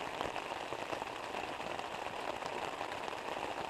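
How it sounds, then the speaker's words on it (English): Rain falls steadily outdoors in the wilderness, a dense, even patter on surfaces that stays constant and close throughout, with no voices. "And so now it's raining."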